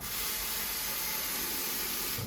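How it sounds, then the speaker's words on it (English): Water runs steadily from a kitchen faucet, a continuous broadband hiss and rush close by with no voices, holding even across the whole stretch before easing slightly at the end. "We're going to run the faucet."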